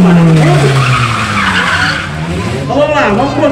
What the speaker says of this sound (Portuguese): vou fazer o cavalo de pau